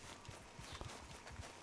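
Horse hooves clip-clop faintly and unevenly in the game Red Dead Redemption 2, a quiet patter of steps over a low background.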